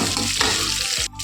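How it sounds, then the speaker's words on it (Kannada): Green chillies and curry leaves frying loudly in a pan, a steady close sizzle with a couple of brief stirring scrapes and a short dip near the end. "ಚೆನ್ನಾಗಿ ಫ್ರೈ ಮಾಡ್ಕೊತಾ ಇದ್ದೀನಿ"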